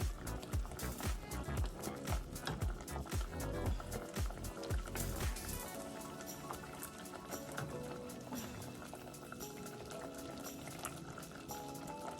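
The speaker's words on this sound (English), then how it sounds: "I'm going to put some more water. I'm going to put another cup." Water pours and splashes steadily into a container of slippery elm mixture for leave-in conditioner for a few seconds, then the rushing fades into a quieter background.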